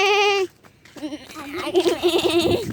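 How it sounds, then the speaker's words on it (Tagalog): A goat's drawn-out, wavering bleat rings out close by, followed by a pause and then several more quavering bleats overlapping one another. "May mga kambing guys oh, ayan."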